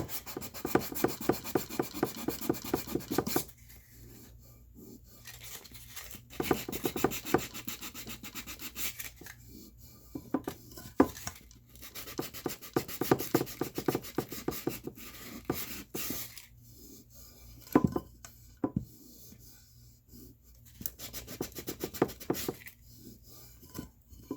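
Cured epoxy on a glitter tumbler is sanded by hand in repeated rapid rasping strokes, with bursts of scratchy rubbing separated by short pauses, close and moderately loud.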